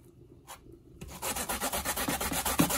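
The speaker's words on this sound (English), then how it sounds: "So this is how I grate my potato." Raw potatoes grated by hand on a grater for Jamaican potato pudding: after a faint rub or two, a fast, steady run of rough scraping strokes starts and continues close up and fairly loud.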